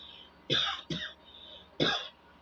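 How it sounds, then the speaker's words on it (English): A person coughs twice in quick succession, then clears their throat once more, close and fairly loud with quiet pauses between. "I have catarrh, cough, so sorry, pardon my voice."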